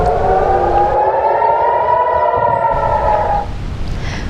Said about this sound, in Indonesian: membuat sirine tanda bahaya terus berbunyi